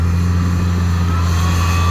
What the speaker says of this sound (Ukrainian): Трактор 150 коней, сівалка форшпронта 8 метрів. Тягне її трохи з трудом